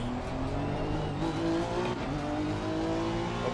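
A race car's engine in the video game Assetto Corsa Competizione drones and shifts pitch as it laps, with faint tire squeal, heard at moderate level without any talk.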